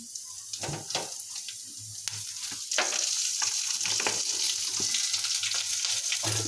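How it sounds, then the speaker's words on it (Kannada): Okra and green chillies fry in oil for a North Karnataka dish, giving a steady close sizzle that grows louder and denser partway through, with occasional stirring clatter and scraping. "ಇದು ಚಲೋ ಹುರ್ಕೋಬೇಕು ರೀ ಫ್ರೆಂಡ್ಸ"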